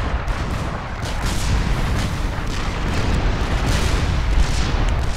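Heavy artillery in the strategy game Supreme Commander firing in a steady, dense rumble of booms that blur into a continuous roar, loud and close.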